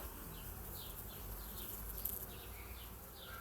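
Bees buzz steadily among lemon flowers in the open air, their soft drone rising and falling as they move around nearby.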